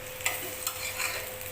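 A short burst of close, steady sizzling from an egg omelette frying in a pan, with a few light clicks of a utensil against the pan.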